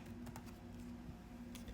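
Keys on a computer keyboard click in a short, light burst of typing, faint against a steady low hum.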